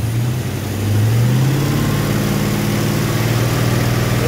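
A car engine idles with a steady mid-pitched hum, then rises in pitch and loudness as the throttle opens, holding at a higher, louder drone for several seconds.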